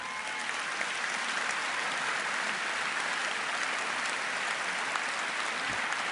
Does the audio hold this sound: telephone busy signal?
no